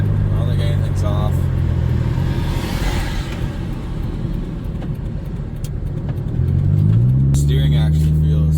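Cabin of a 2009 Pontiac Vibe on the road, a constant loud low engine drone and road rumble throughout, with the engine note rising as it accelerates near the end; someone talks over it.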